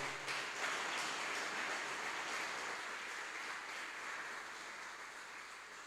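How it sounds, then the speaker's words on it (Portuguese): A church congregation applauds during a service, a steady, fairly faint wash of clapping that holds evenly throughout without pause. "Aplauda a palavra que nós vamos ler, por favor."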